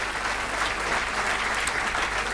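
An audience at a political talk in Padova applauds in a dense, steady wash of clapping that fills the short stretch without a break.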